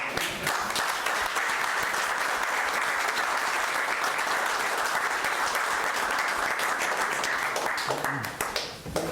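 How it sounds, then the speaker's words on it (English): At a Burlington city council meeting, a roomful of people applauds continuously and loudly, a thick even roar of clapping that holds for nearly the whole stretch before easing slightly at the close. "I think they need a round of applause."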